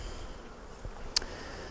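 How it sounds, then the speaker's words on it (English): Bees from an opened ThermoGrade beehive make a faint, steady buzzing hum close by, with a soft knock near the end and no voices. "I've got a lot of bees in between the end bars of the frames"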